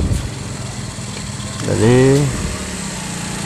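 A Yamaha Mio motor scooter with a slipping drive runs with a steady engine hum that rises into a brief revving surge midway, while someone speaks over it.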